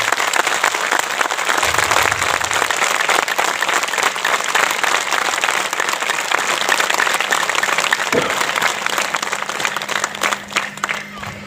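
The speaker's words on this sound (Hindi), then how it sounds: "मातृशक्ति के सम्मान में एक बार विशेष तालियों की गड़गड़ाहट" A large crowd at a spiritual gathering applauds in honour of women, a loud, dense wash of clapping that holds steady throughout, with cheering voices mixed in.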